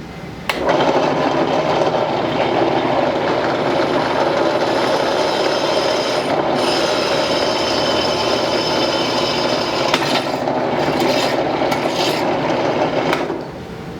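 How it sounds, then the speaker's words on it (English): A Central Machinery benchtop drill press from Harbor Freight drills toward a half-inch hole through a thick piece of metal. It gives a loud, steady whirring grind that lasts about thirteen seconds with no speech, then stops abruptly. "Let's just see how it works."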